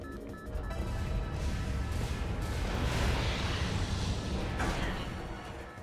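A heavy rumbling explosion in Metroid Prime Remastered, a loud sustained roar and crash filling the scene for several seconds with a dense debris-like wash.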